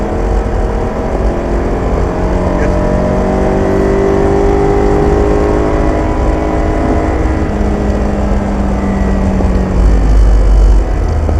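A single-seater race car engine accelerates on track under steady throttle, a loud, continuous, close-up roar whose pitch climbs gradually throughout, with no voices.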